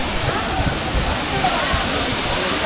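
Agasthiyar waterfall at Papanasam, Tirunelveli, pours in a loud, continuous roar of crashing water, heard close and steady, with splashes and sloshing mixed into the broad rush.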